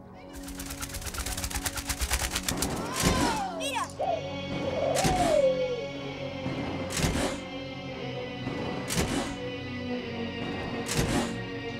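Sharp gunshots ring out at a fashion show staged against war, about five loud reports spaced roughly two seconds apart over steady background music, with a voice sliding in pitch between shots.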